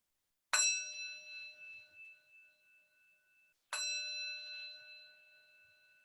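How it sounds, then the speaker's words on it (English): A meditation bell is struck twice, each strike ringing out with a bright onset and a long, slowly fading resonant tone. "ending the practice when you can no longer hear the sound of the bell"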